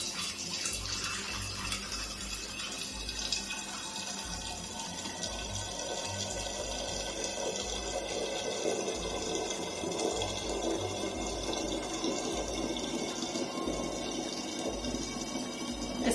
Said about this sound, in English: I'm going to funnel my wine into the bottle